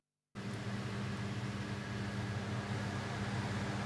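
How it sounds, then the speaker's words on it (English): An air conditioner runs after a short silence, a steady, fairly quiet broadband hum and hiss with faint tonal whine and no variation or speech. "I hate having the aircon on because I don't like the noise in the background"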